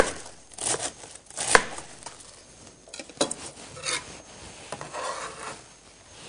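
A knife cuts broccoli into thin slices on a board while a broccoli salad is prepared, giving soft, scattered rasping cuts and taps at close range with no talk.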